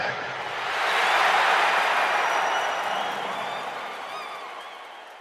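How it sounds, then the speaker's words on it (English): A crowd cheering swells up loudly as a broad roar, peaks after about a second and then slowly fades away over several seconds. "Crowd goes wild."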